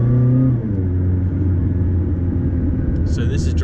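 A McLaren 600LT or Ferrari 488 supercar in automatic mode drives at normal pace with a steady, loud engine rumble and a brief rev at the start, while a person talks over it.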